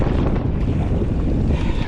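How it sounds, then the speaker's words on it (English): Strong headwind buffets a sea kayak on open water, a steady loud roar of wind noise on the microphone mixed with the wash of waves, with no talk. "The wind really is from the wrong direction."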